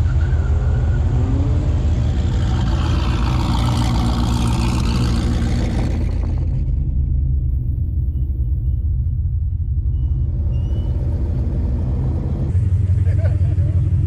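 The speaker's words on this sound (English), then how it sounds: "John and BJ decided to do a grudge race with the turbo all-wheel drive ST against the nitrous F-150." Turbocharged all-wheel-drive ST and nitrous-fed F-150 in a street drag race, with a loud, steady engine rumble that swells and holds, briefly quieting midway, under some talk.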